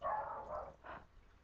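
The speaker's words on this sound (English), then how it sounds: "dogs are barking." Muffled dog barking, faint and somewhat distant, a couple of rough barks in quick succession.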